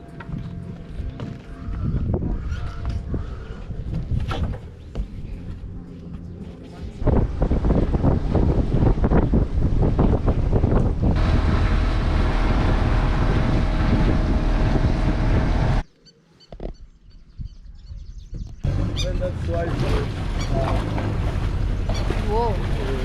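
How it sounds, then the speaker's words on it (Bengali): A tour boat on the Kazinga Channel in Uganda's Queen Elizabeth National Park rumbles along with constant engine and wind noise, briefly dropping out near the end before resuming, with voices talking over it. "যেখানে আমরা 2 ঘন্টার একটা বোট রাইড নেব"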